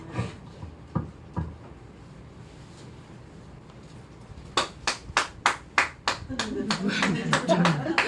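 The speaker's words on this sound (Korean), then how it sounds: "박수." Clapping breaks out in a seminar hall, first a few scattered sharp claps and then a run of loud rhythmic claps that thickens into fuller applause with crowd murmur at the end.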